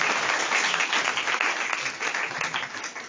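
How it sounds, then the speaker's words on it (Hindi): Audience at a national youth peace camp in Rajsamand, Rajasthan, applauding an honoured founder, a loud, dense wash of many hands clapping continuously, easing slightly toward the end. "एक बार जोरदार तालियां प्रमोद जी सर के लिए"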